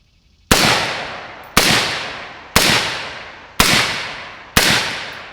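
Five sharp, loud gunshots from a 16-inch AR rifle fitted with a Rex Silentium MG7 suppressor ring out at steady intervals of about one second, each a crisp crack trailing into a brief decaying echo outdoors.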